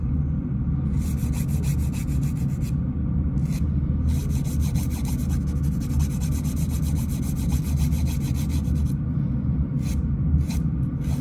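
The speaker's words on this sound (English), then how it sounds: "the buffing causes usually the most damage, and the reason why we use a buffer is to help the polish to stick better" A nail buffer is worked back and forth across fingernails during a manicure, giving close, steady rasping strokes with brief pauses between runs of buffing.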